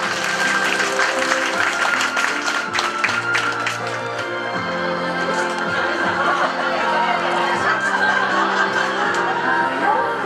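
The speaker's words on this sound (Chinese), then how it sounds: "请掌声欢迎朱爸爸" Warm applause rings out from the guests at an engagement celebration as the bride's father is welcomed up to speak, a steady clapping mixed with chatter and light laughter.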